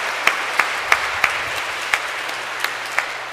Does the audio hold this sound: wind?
no